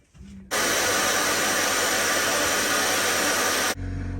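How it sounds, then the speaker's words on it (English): A random orbital sander works a boat's hull surface, starting abruptly after a brief quiet moment and then running as a loud, steady, close-up whirring hiss before cutting off near the end. "Well, it's sanding up all right."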